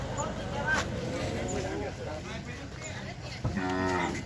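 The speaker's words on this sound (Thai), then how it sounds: "โอ้ ควายงามมาแล้ว เปียสีขาวโบเลยลูกอ่ะ ควายงาม ควายงาม" Water buffalo low at a crowded buffalo gathering in Ban Khwao, Chaiyaphum, Thailand, one long moo rising near the end over steady crowd noise and people talking.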